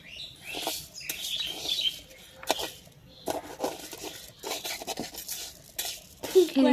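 Dal being stirred in a kadai on a stove, with irregular bursts of scraping, clattering utensil-on-metal noise close by and brief quiet gaps between strokes.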